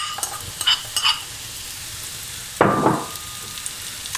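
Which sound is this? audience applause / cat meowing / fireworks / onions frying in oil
onions frying in oil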